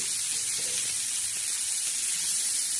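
Onions and tomatoes sautéing in a pan while being stirred for a spicy potato and prawn dish, giving a steady, even sizzle and hiss throughout, with no talking.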